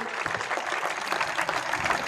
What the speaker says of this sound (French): On peut les applaudir, les deux enfants, s'il vous plaît